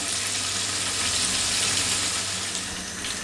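Chicken strips deep frying in oil, a dense, continuous hiss and bubble that stays loud and even throughout with no talking.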